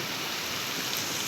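Heavy monsoon rain pours down in a steady, dense hiss with no breaks, close and uniform throughout.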